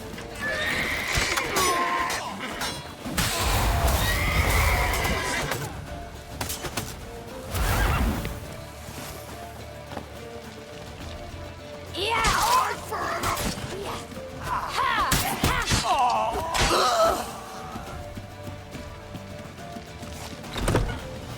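A horse in The Witcher 3: Wild Hunt neighs and whinnies several times while hooves clatter in a gallop through a town chase, with scattered crashes and shouted game voices in between.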